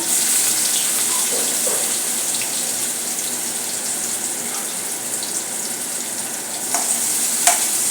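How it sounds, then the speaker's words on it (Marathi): Finely chopped onion fries with crackling mustard seeds in hot oil, a steady close sizzle over about eight seconds, broken by occasional spoon stirs and scrapes against the pan. "कांदा चांगला परतून घेऊया गुलाबी होईपर्यंत आपल्याला परतायचा आहे"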